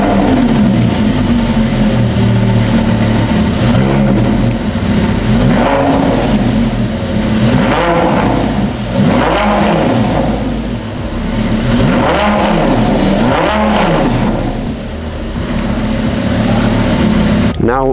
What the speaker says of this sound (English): Now let's hear what this beastie V10 really sounds like.